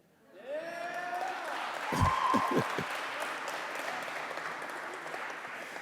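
Audience clapping in a lecture hall at a university event, a steady wash of many hands building up and holding at moderate level, with a few voices and a brief low thump mixed in.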